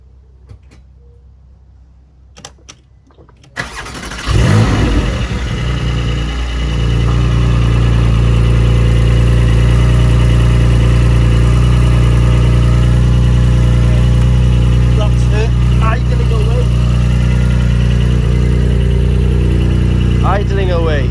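A Porsche 718 GT4 sits quiet for a few seconds, then its engine cranks and catches with a loud roar before settling into a steady, deep idle that continues close by to the end.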